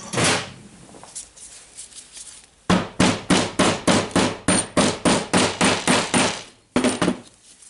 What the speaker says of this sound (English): hammer the ball bearing